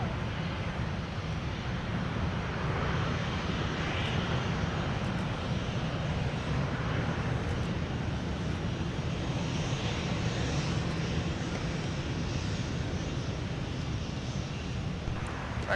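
A jet airliner taking off from runway 17 at Minneapolis–St. Paul airport gives a steady, loud, broadband engine roar with wind rumble, holding constant for the whole stretch without any voices.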